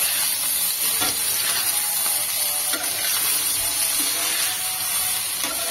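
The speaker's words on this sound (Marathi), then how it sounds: "आता ही भेंडी मी पलटी करते" Okra frying in a pan is turned over: a loud, continuous close sizzle with soft scraping and stirring strokes running throughout.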